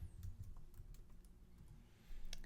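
Quick, irregular keystrokes on a computer keyboard as a project name is typed, a few close clicks in a short burst with a fuller flurry at the end.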